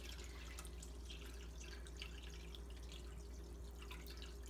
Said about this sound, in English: So I just put some spring water in here in my big measuring cup.